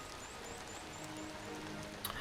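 Rain falls steadily on the town streets in the Saelig game, a soft continuous hiss with faint chirps, and no one talking.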